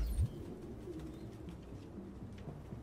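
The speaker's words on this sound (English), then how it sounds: "No human could live with all these fucking pigeons." Pigeons cooing in an indoor room in the video game Detroit: Become Human, soft low repeated coos under a faint ambient hum, no talk.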